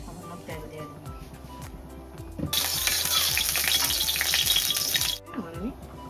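A little oil hits a hot kadai and bursts into a loud, bright sizzle that holds for a few seconds before cutting off, with speech and kitchen clatter before and after.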